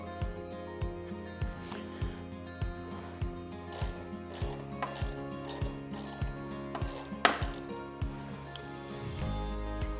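Ratchet wrench clicking steadily in quick repeated bursts while loosening the top pinch bolts on a motorcycle during a crash bar install, close and fairly quiet with a brief metallic clank near the end.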